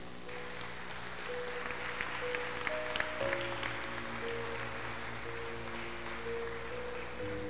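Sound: church congregation applause

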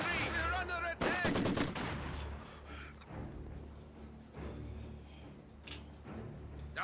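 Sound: enemy gunfire in Company of Heroes 2 video game

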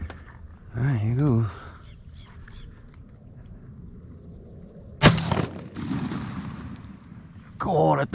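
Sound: shotgun firing 3.5 inch BBB shells

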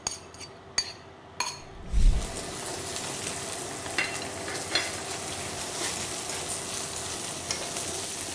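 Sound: pork ribs frying in batter

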